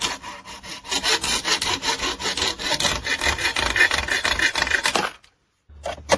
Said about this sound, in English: using a hacksaw.